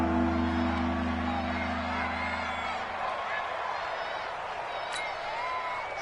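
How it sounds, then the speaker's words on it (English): Stadium crowd in a PS4 football video game roars as fans urge on the defense before a third down, a dense continuous wash of cheering and noise under steady play-by-play commentary throughout. "This crowd urging on their defense. They're up and making noise."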